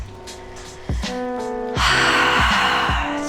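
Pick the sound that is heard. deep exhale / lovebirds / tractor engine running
deep exhale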